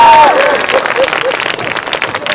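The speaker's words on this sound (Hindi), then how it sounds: "ताली बजाओ, सांस लेना है" Audience applause breaks out at a comedy show, a broad dense wash of clapping that holds loud and steady, with a voice briefly audible over it at the start.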